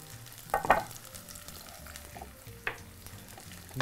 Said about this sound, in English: just continue to cook our zucchinis. Just want to get a little golden brown.